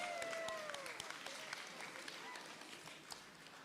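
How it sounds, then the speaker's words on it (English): A small audience at a gathering claps for a prize winner, the scattered clapping fairly close and thinning toward the end, with a few voices mixed in. "Yay, let's give her a big round of applause."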